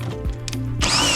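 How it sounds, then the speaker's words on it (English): A power drill whirs in short bursts and then bites into 2x4 lumber while boring rope holes for a porch swing, the motor pitch shifting as it spins up and a louder grinding rush rising at the end. "this is where I'm drilling out the holes so that I can create a big enough hole in order for my 1-inch rope to run through"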